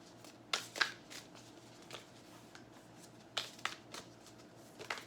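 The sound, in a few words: tarot cards being shuffled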